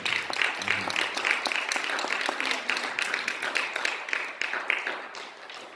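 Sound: church congregation applauding

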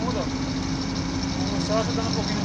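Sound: water tanker truck engine descending hill in second gear

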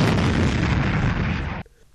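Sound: one-ton HABRAS bomb hitting reinforced concrete target at 1850 km/h

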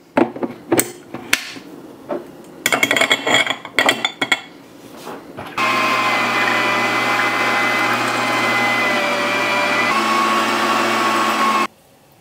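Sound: meat grinder grinding lean pork and pork fat

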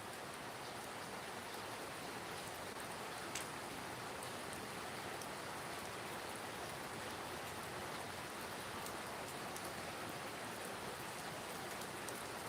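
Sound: rain falling

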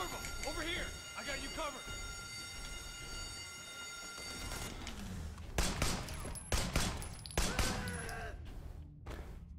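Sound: gunshots in video game Sleeping Dogs

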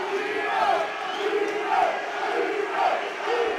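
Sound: crowd cheering for MMA fighter Dean Hawkins

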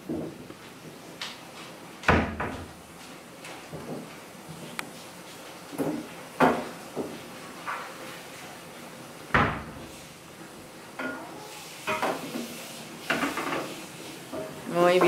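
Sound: door being closed

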